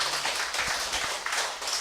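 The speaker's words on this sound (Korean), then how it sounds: "우리 두 청년회들 박수 좀 쳐줘요." Church youth group clapping together, a short burst of hand claps with a few distinct thuds, fairly close and moderately loud.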